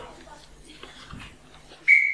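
A referee's whistle is blown to start a game at an outdoor festival evening event, one sharp, loud shrill blast at the very end after a quiet stretch of faint background sounds.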